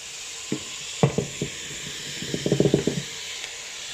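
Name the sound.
bacon sizzling in Milex pressure cooker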